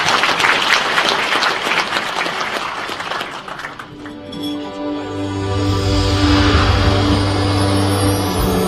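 A ceremony audience at the Sejong Center claps loudly for about four seconds, then the applause gives way to swelling music with sustained tones.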